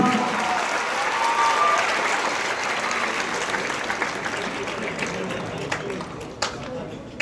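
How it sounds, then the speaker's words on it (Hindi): An audience at an annual institute celebration in Patna applauds for a student, dense sustained clapping at full strength that gradually thins and fades, with a voice speaking faintly over it. "So let's give a big round of applause for Vikram."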